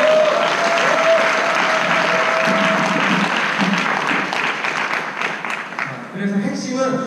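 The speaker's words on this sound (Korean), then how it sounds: "박수 한번 시원하게 칠까요?" An audience at a product lecture in a resort hall applauds warmly, a dense, loud, steady clapping that carries on for several seconds before thinning out near the end, with a brief tone and some voices underneath.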